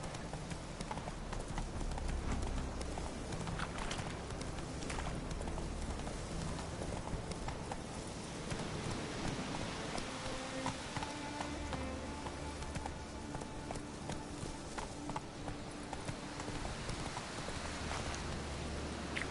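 Roach the horse galloping in The Witcher 3, a steady rapid clip-clop of hooves running throughout over a continuous rushing background, loud and close.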